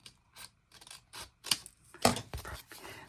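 Scissors gently cutting a page of an old antiquarian book being made into a journal: a quick series of close, crisp snips and paper-slicing crunches, irregularly spaced, with no voices.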